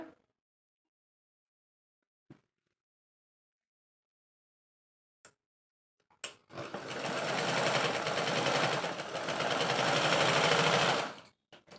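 A sewing machine stitches a princess-style kurti after a few faint clicks, then runs steadily for about five seconds in a fast, even whirring rattle before stopping abruptly. No voices.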